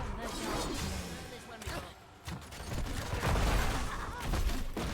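Grenades from Junkrat burst amid a busy Heroes of the Storm team fight, a run of thuddy explosive hits and impacts over constant game noise, with a caster talking throughout.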